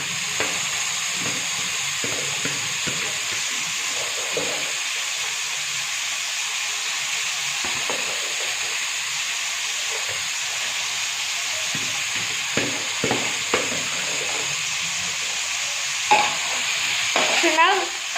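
Potatoes fry and are stirred in a pan for a potato fry, with a steady sizzling hiss throughout and occasional scraping stir strokes that build a little louder near the end.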